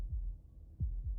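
Game heartbeat in Slay the Princess, a low muffled thump followed by a paired lub-dub pulse, heard up close with nothing else around it.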